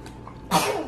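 One short, forceful sneeze bursts out close by after a moment of near silence, ending in a breathy trailing exhale.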